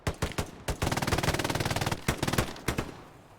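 Machine gun fire rattles in a close-quarters video game firefight: rapid sustained bursts of loud, sharp shots, with a few single reports before and after the main volley.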